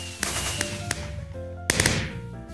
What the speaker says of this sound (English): I set up some fireworks.